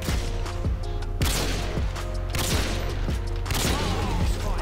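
Gunfire in the video game Call of Duty: Modern Warfare 2 during a 1v1 match: a steady run of sharp, loud shots spaced through the clip over a dense, busy game mix, with faint talk mixed in.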